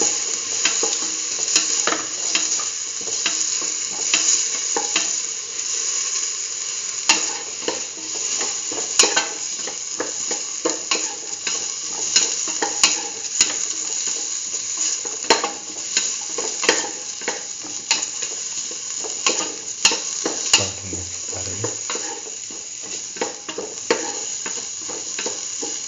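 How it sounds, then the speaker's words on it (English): Tomato pieces sautéed with chayote and green peas in a pan, a continuous close sizzle broken by frequent stirring scrapes and clicks of the spoon for nearly half a minute. "Now put in the tomato pieces. Keep on sauteing."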